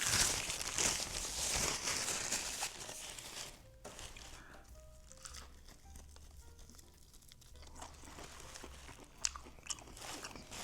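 Crunchy KFC fried chicken skin crackles and crunches as it is bitten and chewed close up, loud at first and then softening into quieter chewing with a few sharp crackles.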